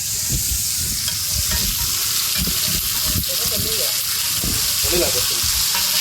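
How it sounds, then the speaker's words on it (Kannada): Fish roasting on a tawa, with steady oily sizzling and crackling throughout, broken by occasional scraping and stirring thumps. Voices talk faintly underneath. "ಈಗ ಸದ್ಯಕ್ಕೆ ಫಿಶ್ ರೋಸ್ಟ್ ಹಾಕ್ತೀವಿ"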